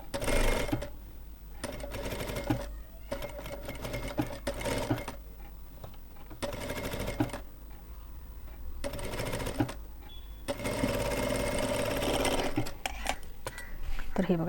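Sewing machine stitching slippery velvet blouse fabric in several bursts of rapid mechanical whirring that start and stop repeatedly, close by, with someone talking throughout.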